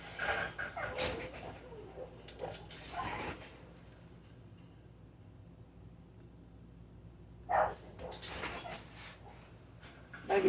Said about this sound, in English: I hear her over there barking at me